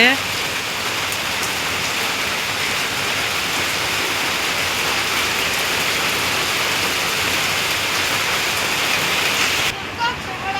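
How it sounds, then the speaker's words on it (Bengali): Heavy rain pours down steadily in a dense, loud hiss that stays constant throughout before easing slightly at the very end. "এই যে অনেক বৃষ্টি নামছে"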